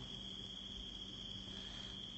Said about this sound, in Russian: Поют сверчки.